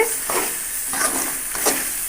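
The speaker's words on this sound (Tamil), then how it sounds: "நல்லா கிளறி விட்டுடலாம்" Repeated scraping strokes of a spoon stirring mutton gravy in a sizzling pan, a steady frying hiss running underneath.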